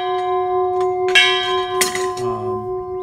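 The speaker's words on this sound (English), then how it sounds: "a spring-loaded mechanism that actuates this hammer that actually rings the bell" A garden bell made from a gas cylinder, struck by a spring-loaded hammer worked by a foot pedal, rings with a sustained metallic tone and a few sharp strikes that leave a long, ringing decay.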